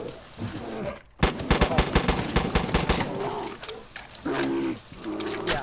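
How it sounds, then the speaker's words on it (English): Enemy gunfire in the Far Cry 5 video game rattles in a rapid burst of sharp shots lasting a couple of seconds, mixed with game sounds and background tones. "Well, okay, he's shooting."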